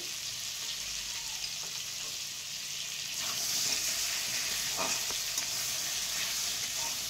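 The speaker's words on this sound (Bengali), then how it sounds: "আলুগুলোকে এবার ভেজে নেব।" Potatoes frying in oil for a thin fish curry with drumsticks, a constant bright sizzle that swells slightly louder midway, with occasional stirring scrapes heard close.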